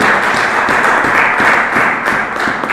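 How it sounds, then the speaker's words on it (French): Congregation clapping steadily during a church sermon, a dense, continuous wash of applause with scattered sharper claps, close and fairly loud. "Acclamons pour la parole de Dieu."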